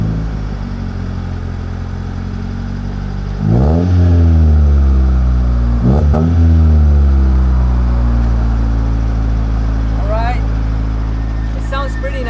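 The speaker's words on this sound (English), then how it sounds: "Let's quickly start the car and let's hear it one more time." A turbocharged 1JZ engine swapped into a Honda Civic EG idles loudly and close, with two sharp revs that rise and fall and a throaty, slightly clattery running note throughout.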